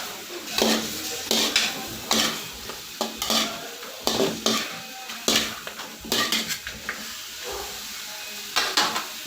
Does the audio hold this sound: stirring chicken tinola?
yes